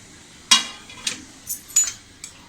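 Chopped cabbage being scooped into a vessel for cabbage manchurian, heard as a sharp metallic clink followed by several lighter scraping taps of utensil against pot, close and clear.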